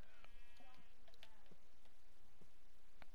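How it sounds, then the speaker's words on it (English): Sheep bleating in Minecraft, faint short blips and game sound effects scattered over steady background noise. "So right now, we have colored sheep."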